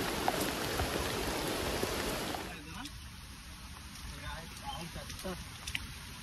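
Monsoon rain on the Kalavantin Durg trek: a dense, loud rain hiss for a couple of seconds, then softer scattered patter and drips.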